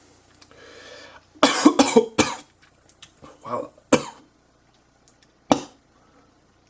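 Several sharp, dry coughs burst out in a cluster, followed by a couple of fainter throat sounds and one more isolated cough after a pause, close and fairly loud against a quiet background.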